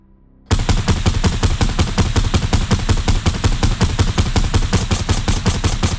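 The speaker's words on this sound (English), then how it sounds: "For the suppressed assault rifle, its accuracy is too high, bullets have tracers, the ADS is too zoomed in, has the incorrect firing animation, and its low ammo sound is missing" A suppressed assault rifle in Fortnite fires in one long, steady automatic stream after a short silent start, with evenly spaced rapid shots that are loud and close throughout.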